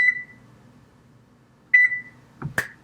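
A kitchen timer being set for 15 minutes gives two short electronic beeps about two seconds apart in a quiet room, followed by a brief clatter.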